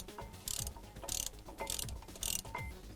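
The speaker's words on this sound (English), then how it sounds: "Tighten that down." A ratchet tightens bolts during a PowerStop brake upgrade install on a Dodge Ram. It comes as four distinct, close ratcheting bursts in a steady rhythm, with no talk.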